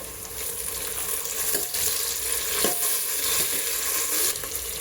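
Tomato sizzling in a pan with coriander and mint leaves for a pressure-cooker mutton biryani, a steady close fry with a few stirring scrapes and no talk.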